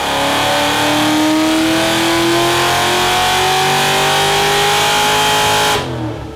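A Harrop supercharged Holden VF SS revs hard through a long pull, engine pitch climbing steadily and loudly up close before cutting off sharply near the end.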